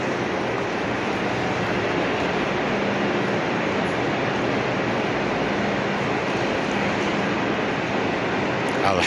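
A high-speed train running from Medina to Mecca, heard from inside as a constant, loud rolling rumble and rush with no break.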